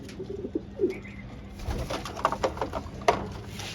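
Racing pigeons coo softly in a few low, throaty calls while drinking medicated water, with light shuffling and background rustle around them.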